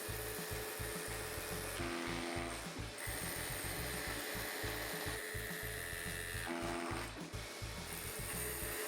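A power drill fitted with a Hilti concrete bit bores into concrete with a loud, continuous grinding hammer-rattle and a high whine, steady throughout with brief dips in pitch as the bit bites.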